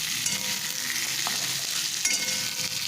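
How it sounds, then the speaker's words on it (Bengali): Capsicum being stir-fried in oil in a pan, a steady close sizzle with a faint hiss throughout and a couple of light stirring scrapes, brief and without talk. "এখন দিয়ে দিচ্ছি ক্যাপসিকাম ক্যাপসিকামটা তেলের সঙ্গে একটু নেড়ে নিচ্ছি"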